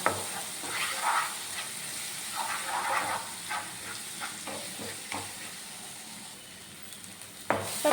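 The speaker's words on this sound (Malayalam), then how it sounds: "ഇനി ഈ പൊടികളെ പച്ചമണം മാറുന്നതും വരെ ഒന്ന് വഴറ്റി കൊടുക്കണം" Spice powders for a pickle sauté in a hot pan, giving a steady crackling sizzle with soft stirring scrapes and occasional louder bursts, close and continuous with no talking.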